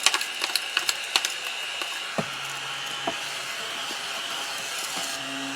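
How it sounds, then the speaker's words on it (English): A small handheld vacuum cleaner whirs with a steady high whine, with a burst of clicks and rattles early on as debris gets sucked up. "I love my little vacuum. It comes in so handy."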